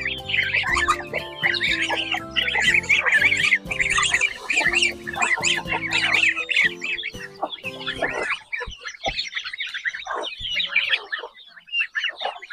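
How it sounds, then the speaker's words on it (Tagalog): Chickens and other farm poultry cluck and squawk continuously, many birds close by, with dense overlapping calls and a busier stretch of low clucking early on; no talk. "Malaki na rin yung pato natin dito."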